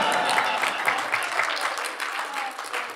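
Audience applause from a crowd at a live talk, steady dense clapping throughout the short stretch, fairly close and full.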